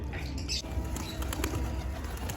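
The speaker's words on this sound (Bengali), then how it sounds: "দেখো গায়ে সবাই নেমে পড়লো পায়রাগুলো" Pigeons land at a feeding spot, giving a few brief flutters of wing flaps and faint bird sounds over a quiet outdoor background.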